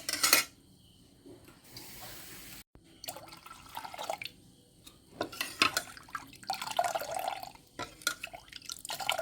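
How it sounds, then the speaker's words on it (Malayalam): Water is poured into ragi (finger millet) in a pot, heard as quiet, intermittent splashes and drips with light clinks of the vessel, with no voices. "ഞാൻ ഇതിലേക്ക് കുറച്ച് വെള്ളം ഒഴിക്കുന്നുണ്ട്"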